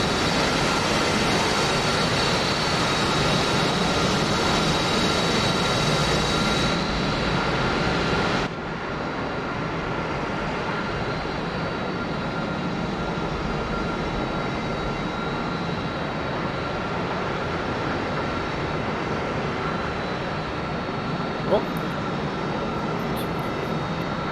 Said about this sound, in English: That's a Harrier on trail.